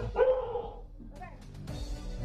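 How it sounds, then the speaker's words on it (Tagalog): A dog at a house in the Philippines gives a single close bark, followed by softer yips and whimpering sounds, with faint background noise. "Pero may lumabas na aso at maamo sa kanya."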